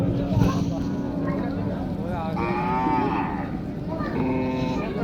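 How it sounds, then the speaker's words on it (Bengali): Several large cattle moo in long, low bellows at a village cattle and goat market, over the steady murmur of a busy crowd, with people talking nearby throughout. "দেখেন অনেক বড় বড় গরু আছে এই বাজারে"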